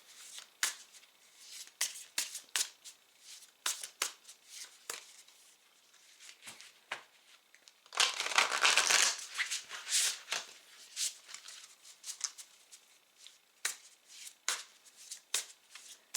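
Large tarot cards being handled and shuffled, with a series of crisp, close card flicks and snaps spread across the clip and a denser riffling burst partway through, fairly quiet overall and with no talking.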